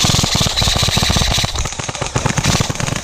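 Airsoft guns firing during a nighttime spec-ops game, a loud close rapid stream of clattering shots in sustained bursts with brief pauses.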